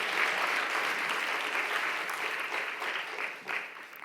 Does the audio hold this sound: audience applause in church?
yes